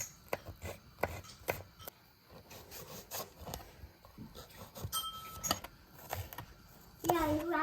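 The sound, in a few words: cutting and flattening a chicken breast into strips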